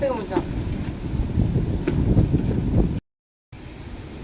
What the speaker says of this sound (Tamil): காற்று பார்த்தீங்கன்னா ஓவராக இருக்கு